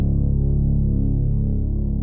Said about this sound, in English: So we've got this really low sub bass, the gut punch bass that comes in the chorus.